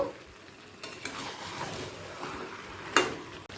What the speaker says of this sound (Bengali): ভেজে রাখা আলুটা মাংসের সাথে কষিয়ে নেব